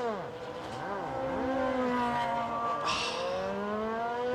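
A Tiger Mazda Group C race car at Silverstone fires back up after a spin, its engine revving loudly and close by in rising and falling sweeps that settle into a steady, strong drone.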